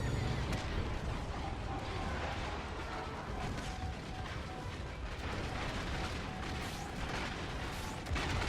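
Laser cannons firing at TIE fighters in Star Wars: Squadrons, a steady dense barrage of game combat noise and engine rumble running throughout without a clear break.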